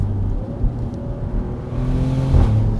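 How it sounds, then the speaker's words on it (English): Twin-turbo V6 of a Maserati GranCabrio Trofeo convertible running under load, a steady engine drone with a faint turbo whoosh and a brief swell near the end, close and continuous with no talking. "And you can hear the turbos, the whooshing noise."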